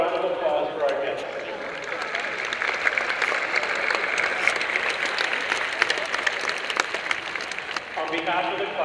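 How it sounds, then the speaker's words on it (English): Steady crowd applause from a high school graduation audience in Mililani, Hawaii, dense clapping sustained throughout with a murmur of voices underneath. "How about a round of applause for our guests?"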